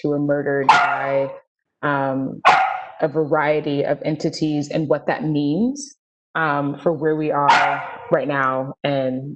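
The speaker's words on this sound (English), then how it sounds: "apologies if you can hear my puppy barking" A puppy barks indoors while a person talks steadily over it. The yips and barks are partly masked by the voice.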